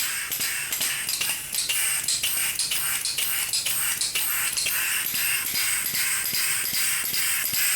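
A locomotive bell ringer being worked apart from its bell, blowing off a loud, continuous rush of exhaust air. Rapid, regular clicking and snapping pulses run over the hiss close by, with no voices.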